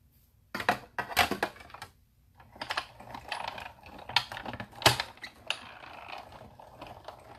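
A manual die-cutting machine cranks paper through a flower-shaped die for a floral wedding card, giving a close, quiet run of clicking, ratcheting mechanical sounds with short pauses.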